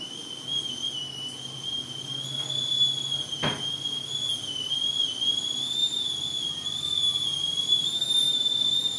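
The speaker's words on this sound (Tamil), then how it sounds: "இது இந்த இட்லி குண்டா வந்து விசில் வருங்க" An idli steamer pot on the stove lets out a continuous shrill whistle that holds steady and loud for the whole stretch, over a low kitchen hum, with one brief clack partway through.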